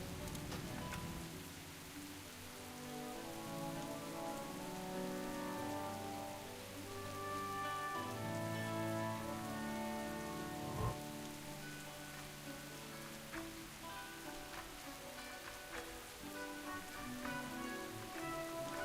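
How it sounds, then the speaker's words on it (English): Heavy rain in World of Warcraft pours steadily in a dense wash of hiss, with layered music-like tones and an occasional thump beneath it. "Very loud rain."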